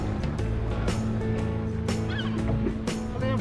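A flock of seagulls calls near a fishing boat at sea off Deokjeok Island, sharp squawks rising over steady engine and wind noise throughout.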